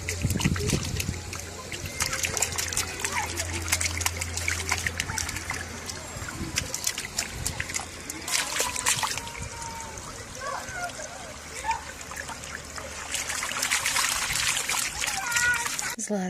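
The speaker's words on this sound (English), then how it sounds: "Can you splash your feet?" A child splashes feet in outdoor water on a sunny day, giving irregular bursts of splashing and trickling close by, with soft voices and a low hum at times underneath.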